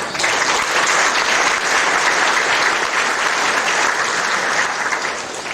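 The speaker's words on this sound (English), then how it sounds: "I think they deserve a round of applause for that" A conference audience at the 2006 ISDC opening ceremony breaks into sustained applause, a dense, steady wash of clapping that holds evenly throughout before tapering slightly at the end.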